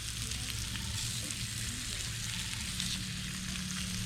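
Spam fries in bacon grease at a campsite, giving a constant bright sizzle and crackle that stays close and even throughout, with no voices over it.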